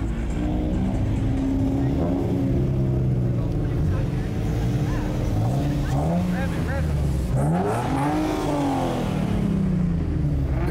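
Car engines rev and roar repeatedly at a Nissan-heavy car meet, rising and falling in loud bursts with a raspy exhaust note over constant background rumble, while people talk nearby.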